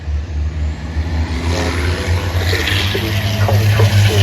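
Racing trucks at Brands Hatch circuit in British Truck Racing thunder past with a loud, steady low engine drone, rising slightly as a truck goes through, no talk.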